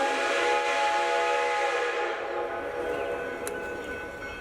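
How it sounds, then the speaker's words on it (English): Big Boy steam locomotive's whistle sounds in a long, loud, chord-like sustained blast that tapers off midway, followed by a short distant whistle reply. "the big boy exchanged whistle blasts with Reading Blue Mountain and Northern Railroad's number 2101, a T1 locomotive"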